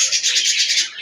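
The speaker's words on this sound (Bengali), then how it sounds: "1 জোড়া যে টাইগার ঘুঘু পাখি আমি গোসল করার জন্য পানি" A pair of tiger doves bathing in water give continuous, bright chirping calls, close and fairly loud throughout a brief moment, with no voices present.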